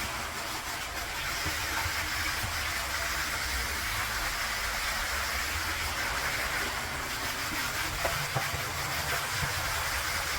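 A steam cleaner hisses steadily while cleaning a painted wall, a loud continuous broadband hiss with little change over about ten seconds and no talking.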